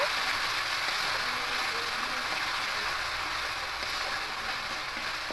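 Spiced potato and soybean curry bubbles and hisses in a pan after spiced water goes in, a continuous soft, even sizzle at low level with no talking.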